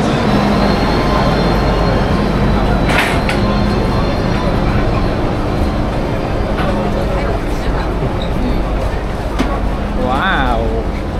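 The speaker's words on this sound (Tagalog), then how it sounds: "Dito na sa tren ng Disneyland. Ayan na ang tren." A Hong Kong Disneyland train rumbles in and approaches with a steady mechanical roar, a brief horn-like tone near the end, and people murmuring in the background.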